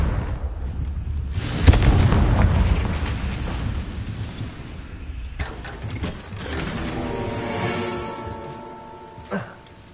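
A Confringo fire spell in Hogwarts Legacy bursts with a heavy, booming explosion early on, followed by rumbling debris, scattered magical impacts and a ringing tonal swell, all loud and close, with no talking.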